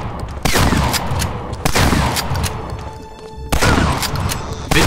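Loud shotgun blasts in Medal of Honor Allied Assault, about four heavy booming shots spaced roughly a second apart, each with a long, noisy decay.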